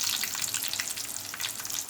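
Cumin, mustard seeds, dried red chillies and crushed garlic sizzle steadily in about three spoons of hot oil for a tempering, with a continuous crackling hiss close up and no talk.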